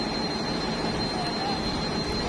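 Twin engines of the passenger ship KM Umsini roar steadily in the engine room, a dense, constant broadband drone with a faint high whine, filling the space without pause.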